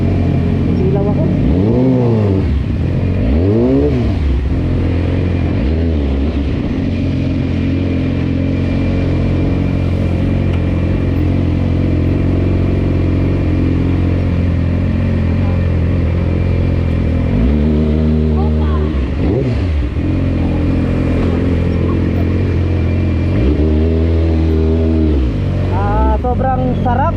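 A Yamaha R6 motorcycle engine idles loudly and revs up in several rising surges, with a voice talking over the steady engine rumble.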